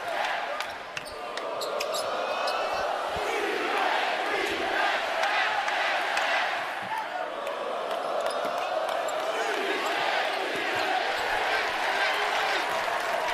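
Basketball fans cheer and roar in a tournament arena, a steady, dense crowd din holding for the whole stretch with a few sharp shouts and whistles rising above it.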